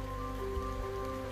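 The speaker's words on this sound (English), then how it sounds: "It's raining a little bit" Light rain falls steadily on a trail campsite in the Grayson Highlands, a soft continuous patter with a low hum underneath and no voices.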